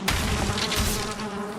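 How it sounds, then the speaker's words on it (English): Bees buzz around beehives in a video game, a dense, steady, close insect drone filling the whole moment without speech. "If you can hear the bees, that's good."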